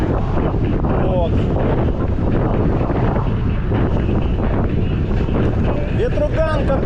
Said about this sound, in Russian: Задолбал уже дней 5 ветер.